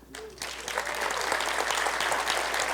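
Audience applause at a State of the City address in Boulder City, Nevada, rising quickly into a thick, steady wash of clapping from a large room that continues to the end.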